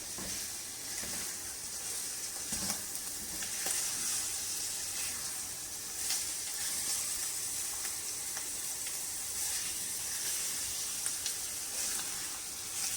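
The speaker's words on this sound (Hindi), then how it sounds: "ये चिकन को इसमें ज़रा 2 मिनट आपने फ्राई करना है चोंगों के साथ" Chicken fries with chonge vegetables in a pan, giving a constant close hiss and sizzle with faint stirring scrapes now and then and no voices.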